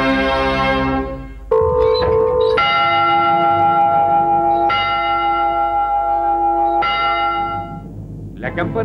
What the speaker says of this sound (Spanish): Campana del reloj de la catedral dio las 5.